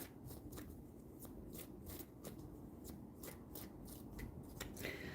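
A deck of playing cards is shuffled repeatedly at a sale livestream, with quiet riffling bursts and soft snaps recurring in a steady rhythm, close and faint, with no talk.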